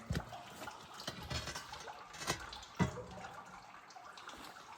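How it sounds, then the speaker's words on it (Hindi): Snowmelt from a roof and rainwater trickle into a storage tank on a Himalayan farm, a quiet continuous flow broken by a few soft splashes and drips, with no one speaking. "ये पानी, ये अब बर्फ़ का पानी है, जो बर्फ़ हमारे छत में पिघल रही है।"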